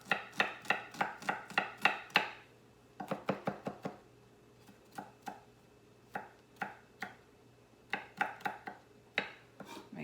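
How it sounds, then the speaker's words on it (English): A knife chops about two garlic cloves finely on a board, giving crisp, evenly spaced taps in quick runs with short pauses between, close and clear with no talk. "Make sure I get those chopped up finely."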